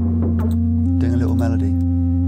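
A sine-wave synth harmony sustains as a smooth steady tone throughout, while a voice briefly talks over the middle.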